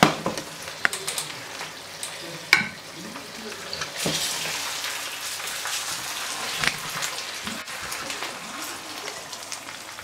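Salted makayabu fish frying in a pan gives a steady sizzle and crackle throughout, with a few sharper pops and light clatters rising over the hiss.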